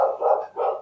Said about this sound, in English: You might be able to hear my dogs in the background.